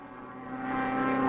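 A propeller airplane stunt-flying in a 1938 Western drones steadily overhead, its engine tone holding even while growing gradually louder as it approaches.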